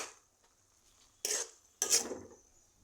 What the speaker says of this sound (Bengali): লবণ দেওয়ার পরে আমি এটা নাড়াচাড়া করব এরকমভাবে নাড়াচাড়া করব